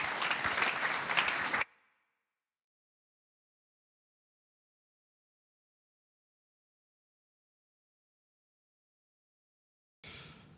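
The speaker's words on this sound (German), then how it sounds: "mit einem herzlichen Applaus auf der Bühne begrüßen" Audience applause welcoming a speaker to the stage at a ceremonial key handover after a school renovation, a short burst of clapping that cuts off abruptly, followed by long silence and a brief return of sound at the end.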